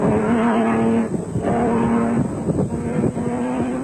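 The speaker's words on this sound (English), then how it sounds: "Vos and Griffith were 6th overall in the Class T Nissan and about to overtake Class E leaders Mark Cronier and Chris Birkin" Off-road race trucks, a Class T Nissan and a Toyota Hilux, at the 2003 Tarkastad off-road race in South Africa, with loud, close engines roaring and revving continuously, the pitch rising and falling as they push on.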